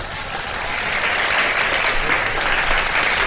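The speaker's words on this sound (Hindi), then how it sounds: "आपके लिए तालियां।" A studio audience at a live television quiz show claps in a loud, full burst of applause that swells and holds steady for a few seconds.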